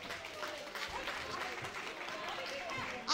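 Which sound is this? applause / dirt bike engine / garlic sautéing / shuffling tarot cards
applause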